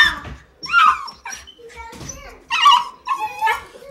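A dog whimpers and yips in a run of high, whining cries and short yelps, close and fairly loud, with brief gaps between the bursts.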